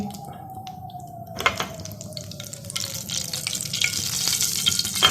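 Red chilies sizzling in hot oil in a saucepan, a steady close frying crackle with light stirring clicks that grows busier and louder toward the end.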